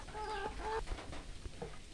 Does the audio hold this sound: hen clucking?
yes